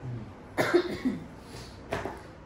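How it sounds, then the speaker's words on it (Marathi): A woman still ill from a lingering sickness gives a loud, wet-sounding cough close by, then a second shorter cough about a second and a half later, with quiet room tone between. "आता झालेला आहे ओला खोकला ना"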